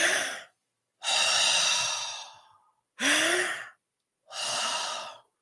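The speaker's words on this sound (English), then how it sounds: "I would almost challenge people to do the mouth breathing of," Four slow, loud breaths taken through an open mouth as a relaxation exercise, close and breathy, each exhale trailing off before a pause, with no talking.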